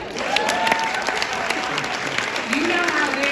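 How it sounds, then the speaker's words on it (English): Guests at a women's sports industry brunch clap loudly and continuously, a thick crowd applause with voices and whoops mixed in, steady from start to finish. "Clap if you've worked 24/7."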